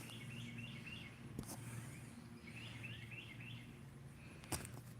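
Birds chirp outside a screened-in porch in short, repeated bursts of tweeting. The calls come faintly at a moderate distance over steady low background hum, with a couple of brief knocks.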